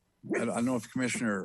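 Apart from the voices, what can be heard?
dog barking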